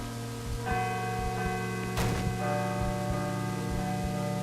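A bell tolls in the Call of Cthulhu video game, sustained ringing tones with a sharp strike midway, sounding over a low droning background with no talk.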